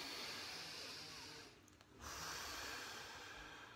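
One long, deep breath drawn and released slowly during a guided meditation session, heard close up against a steady hiss of room noise.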